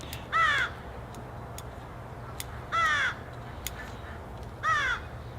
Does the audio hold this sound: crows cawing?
yes